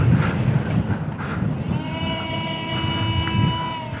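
A small ESKY Sparrow RC biplane drones in to land outdoors, its electric motor giving a thin steady whine with rising tonal harmonics over rushing wind noise.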